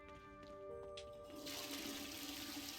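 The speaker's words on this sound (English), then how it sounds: "Toilet flush something." A toilet flushes inside the Hogwarts Legacy video game, a faint tonal hum giving way to a rushing swirl of water that carries on steadily for a couple of seconds without any voices.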